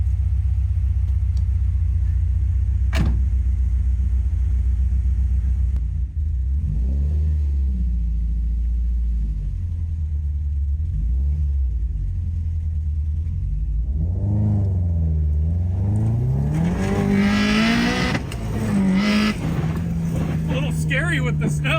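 A Subaru WRX fitted with a swapped 6-speed gearbox on a snowy test drive, its engine rumbling low and steady, then revving up through rising and falling pitches, with people talking inside the car.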